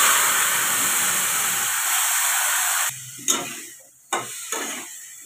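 Marinated potatoes hit hot oil with cumin and bay leaf, giving a loud, even sizzle that drops away after a few seconds, followed by a couple of sharp stirring or lid knocks close up.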